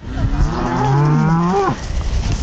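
Cows in a green mountain pasture, one animal letting out a long, loud moo close by with a falling pitch at the end, over a low background murmur of the herd.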